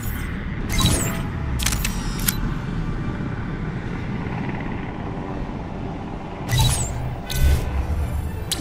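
Camera shutter clicks from a selfie photo in the Spider-Man 2 video game, two pairs of short sharp snaps over a steady background rumble, with no speech.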